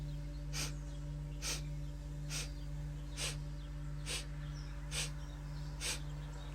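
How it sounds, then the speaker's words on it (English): A run of eight short, sharp sniff breaths during a breathing practice, evenly spaced about a second apart, close and clear over a low steady hum. "begin the sniff breath in 4 and 8 rhythmic segments"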